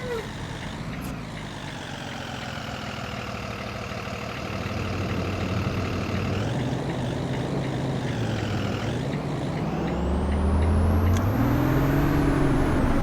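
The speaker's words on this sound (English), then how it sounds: "then we'll take my spare bus for a spin" A yellow spare bus driving in Rigs of Rods, its engine droning steadily and rising in pitch as it accelerates, with an air-brake hiss early on and a long whine near the end.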